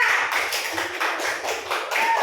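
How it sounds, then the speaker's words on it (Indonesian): Classroom applause from a group of elementary pupils cheering a student group, a busy patter of many hands clapping steadily and fairly close throughout. "Tepuk tangan untuk kelompok 4"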